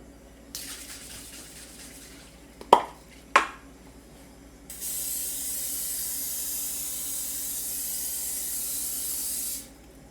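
Cooking spray hisses steadily into a baking pan for brownie bars for about five seconds, after a couple of sharp clacks from shaking or handling the can, with quiet rustling before it.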